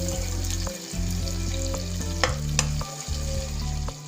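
Paneer fries in hot oil in a pan with a strong continuous sizzle, broken by spatula scrapes and a few sharp metallic taps, under a steady low hum.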